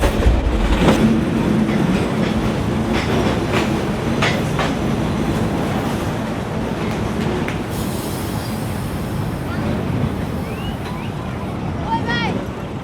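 A passenger train on the Narayanganj to Dhaka line runs fast toward Fatullah station. A loud, continuous rumble of wheels on rails with metallic screeches, heard from on board, with voices faintly underneath.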